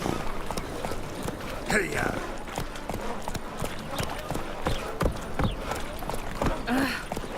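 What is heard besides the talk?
horse Roach galloping, from The Witcher 3 video game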